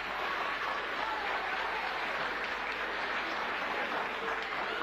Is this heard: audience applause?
yes